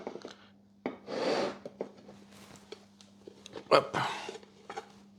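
A baked tarte tatin being turned out of its baking dish, with a few scraping rubs and dull clunks of the dish and plate, separated by short pauses. A brief word is spoken.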